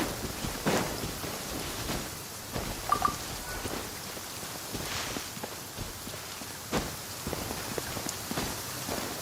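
Rain falls in the Genshin Impact video game as a steady, close hiss of drops hitting the ground, with occasional sharper taps and patters over the constant wash.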